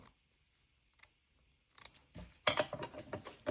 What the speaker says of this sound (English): Just got a little bit of this lace. I cut it.